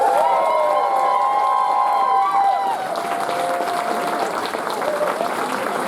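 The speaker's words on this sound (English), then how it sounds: "so big round of applause for him" Audience applause at the closing ceremony of an anime convention, a loud burst of clapping and cheering that swells and then thins out, with a voice over the top.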